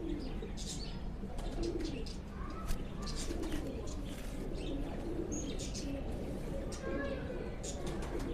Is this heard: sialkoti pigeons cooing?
yes